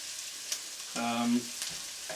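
Onions browning in oil in a pan for French onion soup give a quiet, steady sizzle, with a brief stirring scrape and a short tonal squeak in the middle.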